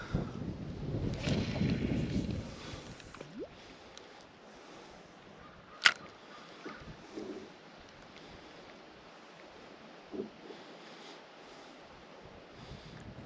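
Steady wind rushing and buffeting against the microphone outdoors at a lake while fishing, strongest at the start, with a few soft knocks and splashes near water.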